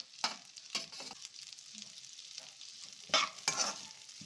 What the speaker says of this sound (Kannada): ಬೀನ್ಸು, ಕ್ಯಾರೆಟು, ಕ್ಯಾಬೇಜು ಎಲ್ಲ ಹಾಕ್ಬಿಟ್ಟು ಕ್ರಂಚಿಯಾಗಿ ಫ್ರೈ ಮಾಡ್ಕೊಳ್ಳೋಣ